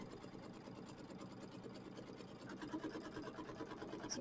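A faint embroidery machine stitches at a fast, even rhythm, tacking down quilt fabric on a Kimberbell mini quilt, with a soft continuous whir that grows slightly louder toward the end.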